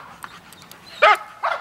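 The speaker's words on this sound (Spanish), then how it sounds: "Última mordida de esta perra, Lalo." A dog gives a couple of short, sharp yelps or barks, the second louder and closer than the first, over faint background noise.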